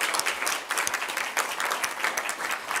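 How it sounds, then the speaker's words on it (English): Audience applause for a local environmental advocate at a talk on fracking, a steady wash of clapping at moderate level throughout, with no voices over it. "give him a, a round of applause and acknowledgement for his efforts"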